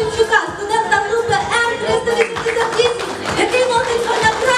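An audience applauds a student at a 2016 Student of the Year award ceremony. Steady, dense clapping fills the whole stretch, with a voice and tonal sounds carrying over it.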